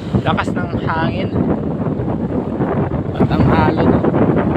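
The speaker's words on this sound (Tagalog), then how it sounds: "Napaka-lakas ng hangin." Strong wind blowing along a coastline in Romblon on a stormy day, a loud continuous rush buffeting the microphone, with a person speaking over it.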